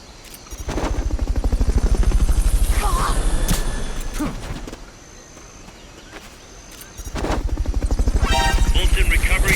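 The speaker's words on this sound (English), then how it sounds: "Fulton recovery subject confirmed onboard helicopter." Helicopter in the video game Metal Gear Solid Peace Walker, loud rapid rotor chopping that swells, dips midway and returns, with brief game effects layered over it.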